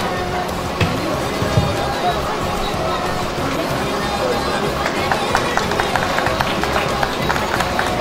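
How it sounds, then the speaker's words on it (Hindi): Crowd noise with scattered clapping fills a prize distribution ceremony for the NCM Championship 2025, a steady dense wash of applause and murmuring throughout with a few sharper claps standing out. "तालियां बजाइए, तालियां बजाइए।"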